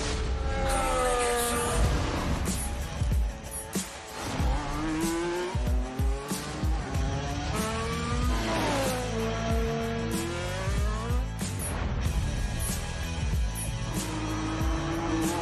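A Red Bull race car tears through city streets, its engine revving loudly with rising and falling pitch as it accelerates, shifts and skids, tires squealing repeatedly, close and continuous throughout.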